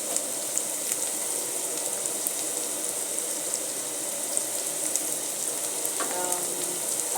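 Ingredients for spaghetti sauce sizzle in a pan, a steady, fairly quiet frying hiss with a few faint clinks near the end.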